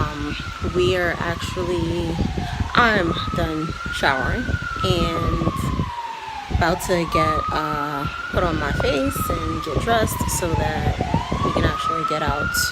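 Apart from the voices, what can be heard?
police sirens on a New York City street in Brooklyn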